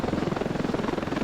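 Helicopter in the game Ravenfield, a steady rotor thrum with a rapid regular chop filling the whole moment, loud and close with no talk over it.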